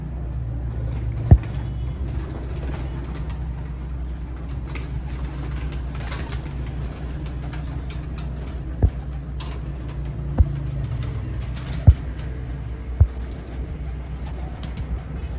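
Pure Teddy-breed racing pigeons cooing softly in a loft, with low continuous cooing under a constant background hum and a few brief sharp knocks scattered through, moderately close.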